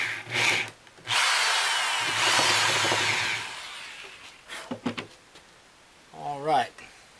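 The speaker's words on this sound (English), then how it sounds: "So I'll drill a hole in there." A power drill whirs into wood in two bursts, with short pauses and brief speech between and after.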